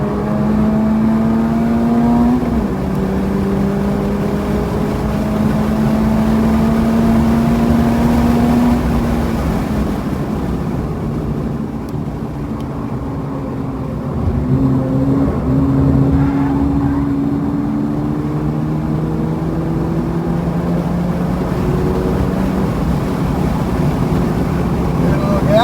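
A car engine accelerates around Buttonwillow's Classic counter-clockwise circuit during a high-performance driving session, loud and close, its pitch climbing through several gears with upshift drops, then easing off before revving up again.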